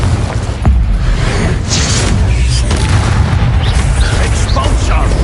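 A Confringo fire-blast spell erupts in the Hogwarts Legacy video game, a sharp booming burst followed by sustained loud rumbling battle noise, with a voice talking through it.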